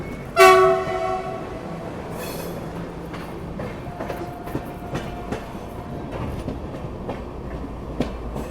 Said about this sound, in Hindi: उधर देखिए कानपुर वाली लाइन पे कोई ना कोई ट्रेन आ रही है